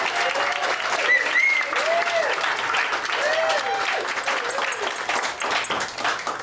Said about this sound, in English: I would like a round of applause for Mary